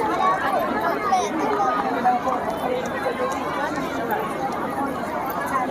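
Dense crowd chatter fills a Gujarati dining hall at the Mumbai Ashvamedh gathering, a steady murmur of many voices with clatter mixed in, continuous and fairly loud throughout.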